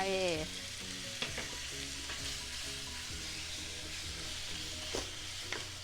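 Pork belly and bamboo shoots sizzle steadily in a pan as fish sauce goes in, a constant frying hiss broken by occasional scrapes and clinks of stirring, with no talking.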